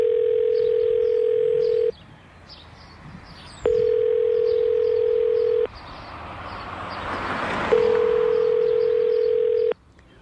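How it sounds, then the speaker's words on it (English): Ringback tone on an unanswered 911 emergency call in Cincinnati: three long, steady rings separated by silent gaps, close and clear, with a soft rushing noise between the second and third. "One out of every 5 emergency callers to Cincinnati 911 waits 10 seconds or longer just for someone to answer the phone"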